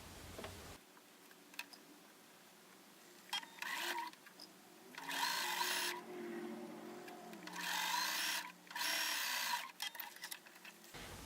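Sewing machine stitching the bottom row onto a star quilt block, running in several short bursts of a few seconds each, separated by quiet pauses and small handling noises, fairly close and moderately loud.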